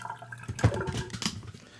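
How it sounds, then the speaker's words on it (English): Water runs from a cruise ship cabin bathroom sink tap at strong pressure, a steady close splashing rush that swells midway with a brief louder gush before settling. "that's some really great water pressure on a ship"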